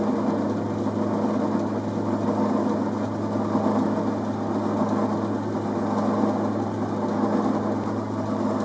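A metal lathe runs steadily while its wheels are slowly wound in, giving a continuous low motor hum with a mechanical whir, constant in level and close throughout with no talking.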